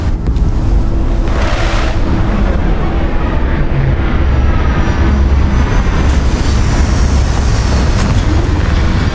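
A spaceship touches down in the video game Starfield, a loud, steady engine roar with rumbling low end that swells and shifts throughout, with no speech.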